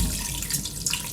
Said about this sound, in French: Et je vais venir couvrir